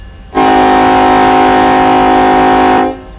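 Train horn in the Run 8 Train Simulator game, one loud sustained blast of about two and a half seconds, steady and harsh, starting and stopping abruptly with no talking.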